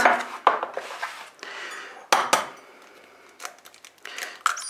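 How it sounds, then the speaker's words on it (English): Eggs cracked one at a time into a jug while baking Easter butterfly fairy cakes: a few sharp, close taps and clinks against the rim, scattered across the moment with quiet gaps between. "I'm just going to crack them into a jug or a cup or whatever separately first"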